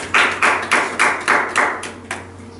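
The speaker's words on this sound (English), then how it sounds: "Let's clap for him." A Bible study congregation breaks into clapping, heard as about six separate loud, evenly spaced bursts that fade to a softer final one.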